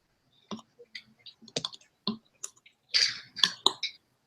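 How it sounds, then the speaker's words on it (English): A knockoff Terminus Hexatron six-shot toy figure being transformed, giving a close series of sharp plastic clicks and snaps at irregular intervals, with a denser cluster of ratcheting clicks near the end, no voices. "that would be me transforming my knockoff version of the Terminus Hexatron 6-shot"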